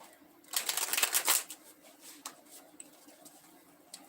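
Tarot cards are shuffled close up in one quick riffling burst of papery flutters lasting about a second. Lighter card rustles follow at a quieter level.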